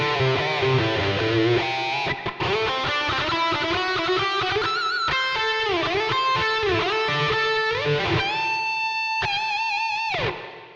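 A heavily distorted electric guitar through a Mesa MKIIC+ amp plugin plays a soaring lead solo with sustained, bending notes and a wide, echoing reverb, loud and continuous.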